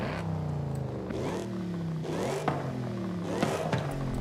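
Car engine in Forza Horizon 5 running a stock exhaust, revving up in several rising, wavering sweeps with a steady, close drone between them and no talk.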